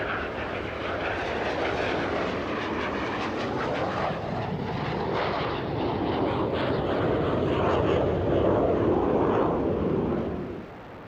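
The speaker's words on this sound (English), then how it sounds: "it does demonstrate the low-speed maneuverability of this Aeromacchi MB339" An Aermacchi MB339 jet roars steadily overhead during low-level aerobatics at an air show, loud and close, the engine note swelling and shifting before fading at the end.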